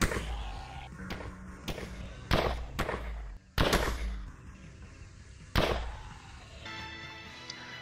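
Sharp gunshots ring out one at a time at irregular intervals in a spooky maze video game, punchy and close over a background of game music and ambient sound.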